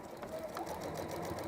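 A sewing machine stitches fabric at a steady, continuous whir with a fast regular needle rhythm, close and even throughout.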